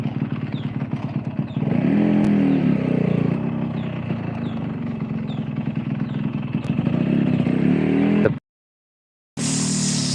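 Motorcycle fitted with an RX aftermarket exhaust climbing a hill in second gear, a steady close engine drone that strengthens as it pulls, then cuts out briefly before resuming loudly.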